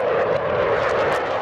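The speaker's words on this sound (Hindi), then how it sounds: "हवाई जहाजों का ऐसा कदमताल आपने कभी नहीं देखा होगा" Several propeller airplanes flying in a tight aerobatic formation, their engines producing a loud, steady, continuous drone that holds evenly overhead with no voices.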